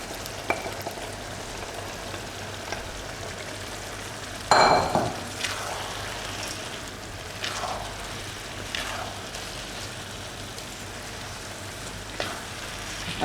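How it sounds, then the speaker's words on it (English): Rice tipped into a hot pan for tomato rice hits with a sudden loud sizzle, then settles into a steady frying crackle, broken by a few scraping stirs. "I'm adding the rice."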